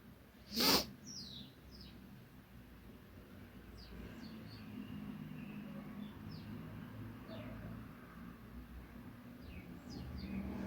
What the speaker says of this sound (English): The sound of the birds already feels like a major blessing.